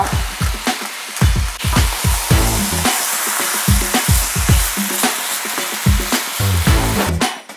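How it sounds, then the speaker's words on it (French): Strips of poultry for a curry sear in a hot wok, giving a loud, steady sizzle broken by rhythmic scraping bursts of stirring, with no talking. "On va rajouter notre volaille et on va laisser saisir."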